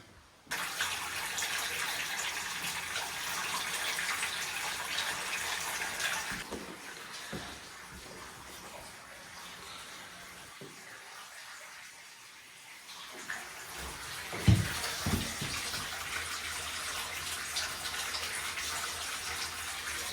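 A bath tap runs steadily as water gushes into a tub, with a short quieter break partway through and a couple of knocks near the end, close and fairly loud throughout.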